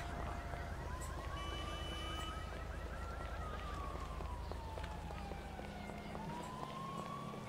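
Wailing ambulance siren in the video game GTA 5, a steady rising and falling electronic tone sounding continuously over engine and background noise, with faint voices talking.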